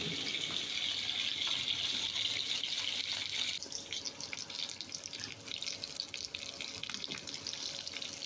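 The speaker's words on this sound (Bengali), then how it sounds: "এখন তেলাপিয়া মাছ ভাজতেছি তেলের মধ্যে।" A large headless tilapia, about 700 grams, fries in oil in a village kitchen, giving a soft, steady sizzle that shifts slightly in texture partway through, with no voices.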